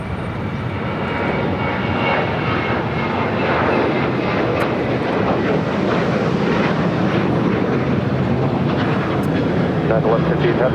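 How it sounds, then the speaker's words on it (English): Avianca airliner, an A320neo arriving from Guatemala City, touching down on the runway at LAX, a loud continuous roar of engines and rushing air that stays broad and sustained, with faint talk underneath. "Just touching down, a flight coming from Guatemala City, Avianca Flight 732"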